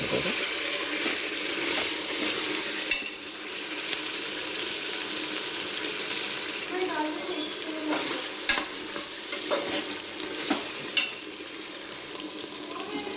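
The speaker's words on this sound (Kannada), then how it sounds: "ಈಗ ನಾನು ಅಕ್ಕಿ ಎಲ್ಲ ಸೇರಿಸ್ಕೊತೀನಿ." Rice tipped into hot oil in a pan and stirred for a festival home meal, a steady sizzle with scraping and clinking of a spoon against the pan, close by, no speech.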